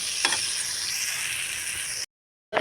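Onion and tomato mixture cooking in oil over a low flame, a steady bright sizzle and crackle running evenly for two seconds, then briefly cutting out before resuming.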